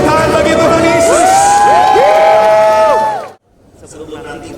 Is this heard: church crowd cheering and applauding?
yes